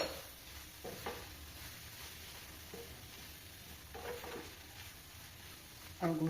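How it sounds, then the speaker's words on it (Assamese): A spoon stirs jaggery with amla, chopped ginger and salt in a hot pan for pickle, giving faint scraping strokes over a soft, steady sizzle, quiet and close. "এনেদৰে লৰাই থাকিম অলপ সময়।"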